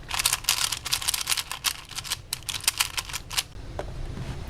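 Rapid, clacky plastic turning of a ShengShou Legend 4x4 puzzle cube, a dense run of close-up, lower-pitched clicks and scrapes that stops abruptly near the end.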